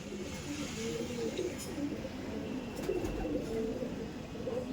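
Chotial pigeons cooing faintly in low, murmuring phrases against a steady background hum, with a couple of brief soft knocks; no clear talking.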